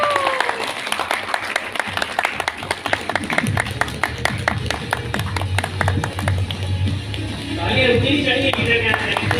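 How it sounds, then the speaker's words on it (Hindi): An audience at an Oriflame beauty company event claps to welcome a senior director to the stage, the applause starting sparse, swelling into loud, rhythmic group clapping, then blending with background music near the end. "आप सबकी भरपूर तालियों में नौशीन इस्लाम"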